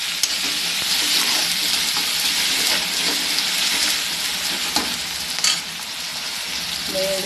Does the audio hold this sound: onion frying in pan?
yes